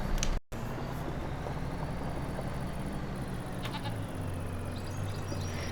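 Goats bleat in Farming Simulator 25, a few calls rising over a steady bed of game ambience and low machinery hum, with no talk.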